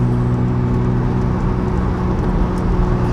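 A twin-turbo Mazda RX7 is heard from inside the car as a loud, steady engine drone with a constant low hum and a faint whirring whine above it. The sound stays even throughout.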